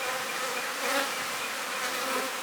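Honeybees from a cell builder hive drone in a steady, continuous buzz that swells slightly at moments, close by, with no talking.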